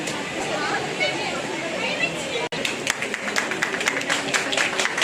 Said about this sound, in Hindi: जोरदार तालियां बजाएंगे इनके लिए